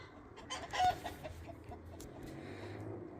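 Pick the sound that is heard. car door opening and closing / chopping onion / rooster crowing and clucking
rooster crowing and clucking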